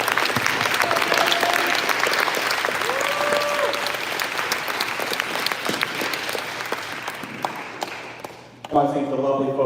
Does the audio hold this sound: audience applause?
yes